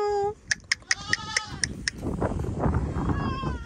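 Goats bleat in a hill village in Dhankuta, Nepal: one clear, close bleat opens, followed by a quick run of sharp clicks and then a rough, noisy outdoor wash.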